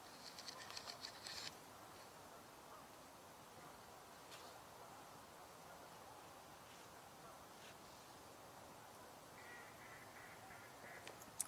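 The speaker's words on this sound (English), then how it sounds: "Oh, I just heard a mallard" A mallard duck quacks faintly in the distance at Mays Point, a few brief, soft calls over a steady low outdoor hiss and hum, with no voices.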